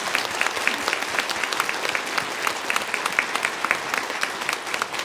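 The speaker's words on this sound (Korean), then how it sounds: "자, 뜨겁게 박수합시다." A congregation gives a standing ovation in a Korean church during a pastor's installation service; vigorous, sustained clapping from many people throughout, with crisp individual claps standing out against the dense roar.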